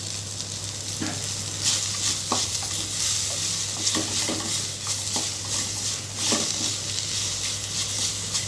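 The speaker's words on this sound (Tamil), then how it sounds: "ரொம்ப நேரம் கொத்தமல்லியை வதக்கிறாதீங்க கலர் மாறிடும்" Chopped coriander leaves with salt are sautéed lightly in a pan for coriander-mint chutney. Close stirring scrapes and soft patter run over a gentle frying sizzle, with a low steady hum underneath.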